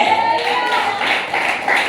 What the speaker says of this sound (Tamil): நமக்கு கைத்தட்டு